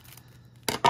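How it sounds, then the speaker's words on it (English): Two quick, sharp scissor snips cutting open a baseball card pack close by, following a brief quiet moment. "I'm just going to use the scissors"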